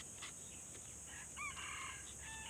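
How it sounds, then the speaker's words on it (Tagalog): A faint, distant red junglefowl crows over steady hiss and insect-like background noise, its call rising and falling briefly in the middle. "tilaok ng labuyo. Marinig yan sa video."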